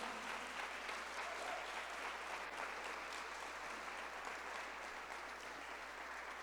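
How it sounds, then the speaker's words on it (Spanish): Steady applause from a church congregation fills the space, even and sustained throughout, with no talk over it. "Dense un aplauso."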